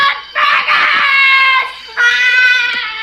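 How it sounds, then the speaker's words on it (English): A child in a Troll 2 movie scene screams loudly in two long, high-pitched wails separated by a short breath, close and harsh with no speech over them. "here's a screaming child"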